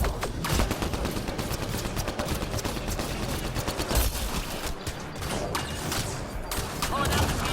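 Dense, steady gunfire in the video game Mass Effect: Andromeda, rapid shots and mechanical clatter layered over a loud, continuous combat din.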